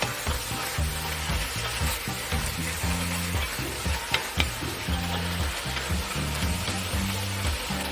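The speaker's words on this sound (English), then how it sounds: "Now it's time to add short ribs. We're going to stir around for about 2 to 3 minutes before we flavor the meat." Beef short ribs and tomatoes sizzle and sear in a pot while being stirred, with a steady close frying hiss and soft rhythmic scraping, and no talking.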